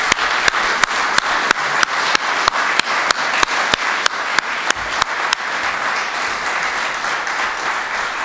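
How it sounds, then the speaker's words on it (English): An audience at the 2017 Order of Prince Edward Island awards ceremony applauds steadily, a dense wash of many hands with a few sharp, regularly spaced louder claps standing out near the front. "Please give them a rounding sound of applause."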